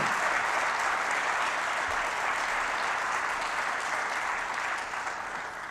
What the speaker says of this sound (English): Please also extend a round of applause to these gentlemen.